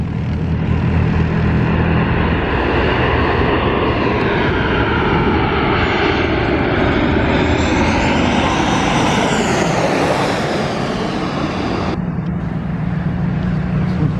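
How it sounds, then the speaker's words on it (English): A Jet2 Boeing 737-800 airliner lands at Zakynthos, its engine roar loud and steady throughout, a rising then falling whine sweeping past as it nears and touches down, then the drone settling lower. "here comes the Jet2 737-800 from, I believe, Leeds, this one"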